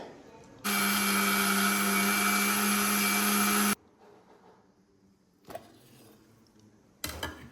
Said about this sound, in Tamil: நான் இப்போ இதை மிக்ஸி ஜார் எடுத்து இது எல்லாத்தையும் சேர்த்து அரைச்சிட்டு நான் காட்டுறேன் உங்களுக்கு